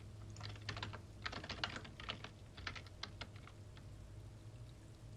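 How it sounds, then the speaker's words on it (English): Quiet clacking of keys as someone types on a computer keyboard, irregular clusters of taps with short pauses between, soft and close over a low steady hum. "But let me type it in"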